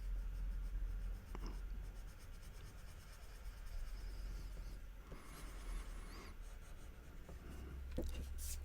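A burnisher pencil rubs over a colored pencil drawing, a soft continuous scratchy scrubbing close to the page, faint and steady with a few small taps and no talk.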